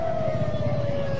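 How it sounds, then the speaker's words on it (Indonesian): An ambulance siren arrives at the scene of the Sarinah blast on Thamrin in Jakarta, a loud, steady, slightly falling wail that holds a single tone throughout over a low traffic rumble. "kalau kita lihat ini ada lagi satu lagi tambahan ambulans yang datang"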